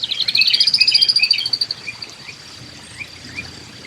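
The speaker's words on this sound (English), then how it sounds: "Number 8 on our list is the eastern towhee, famous as being the largest sparrow in North America" An eastern towhee, a large North American sparrow, sings a quick run of bright, rapid trilled notes that fade after about a second and a half, followed by faint scattered chirps.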